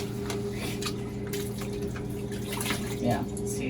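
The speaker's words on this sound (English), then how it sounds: "Let's just rinse it." Tap water runs steadily into a sink while antique doll clothes are rinsed, a continuous close splashing flow with a brief louder gurgle near the end and a voice talking over it.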